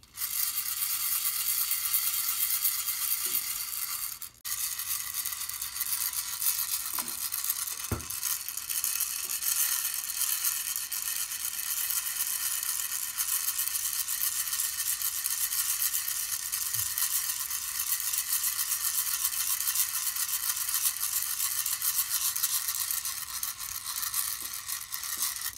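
Cameroon peaberry coffee beans are shaken continuously over a home gas stove, a dense steady hiss and rattle lasting throughout with a few faint knocks.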